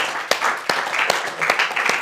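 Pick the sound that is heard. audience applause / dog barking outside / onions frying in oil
audience applause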